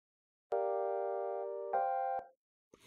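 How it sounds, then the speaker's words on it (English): A soft neo-soul synth chord from an Ableton chain with the left channel's phase flipped, held tone then shifting to a second chord before cutting off, close and clean with no voices. "On the left chain, I flipped the phase of the left channel, which makes the sound kind of tilt a little bit."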